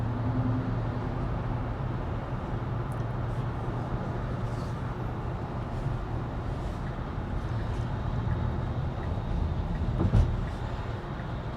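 A steady, loud rumble of a train rolling along, continuous and droning, with faint clatter and no talking.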